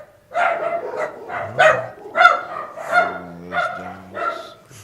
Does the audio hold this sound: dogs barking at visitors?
yes